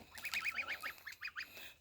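Farm geese and ducks give a quick run of nasal honks and quacks, moderately faint and close together, then a few more calls after a short pause, with no talking.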